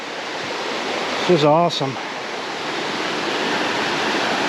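A mountain creek along a Smokies trail rushes steadily throughout, a broad continuous water roar, with someone briefly speaking over it.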